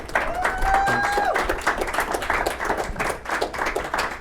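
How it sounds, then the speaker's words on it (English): A crowd at a Milo Yiannopoulos and Martin Shkreli speech at Penn State University claps in a lively, dense burst with a whistle early on, steady and fairly loud across the whole stretch without speech. "Let's everybody give a big round of applause."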